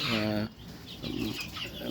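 A Fayoumi chicken on a small poultry farm gives a loud, drawn-out harmonic call lasting about half a second, followed by softer, scattered clucking murmurs close by.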